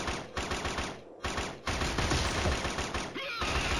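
Sustained automatic gunfire from Killzone on PS3, dense rapid volleys broken by short pauses, loud and continuous, with no voices.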